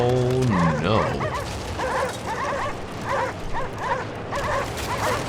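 Dogs in the video game Cryostasis bark and whimper in repeated yelping bursts, close and loud over a rumbling background, with a rising whine near the start.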